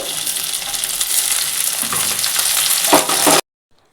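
Loud, steady sizzling of green peas frying with potatoes in a pan, with scraping stir sounds near the end before it cuts to silence.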